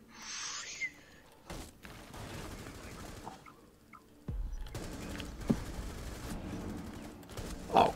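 Bursts of gunfire in the tactical shooter game Rainbow Six Siege, with a sharp shot near the start and a denser stretch of rapid firing in the second half, sitting over a busy, mid-level game soundscape.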